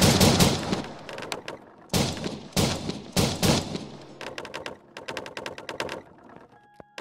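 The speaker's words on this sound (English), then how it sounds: "I don't know if you guys can hear this, but the gun sounds haven't changed." Bursts of rapid gunfire from the game 1v1.LOL, sharp clattering shots in several volleys with short gaps between them.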